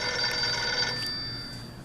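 An electronic telephone-style bell on a Stern Indiana Jones pinball machine rings in a fast trilling burst for about a second, then cuts off, leaving a faint hum of background noise.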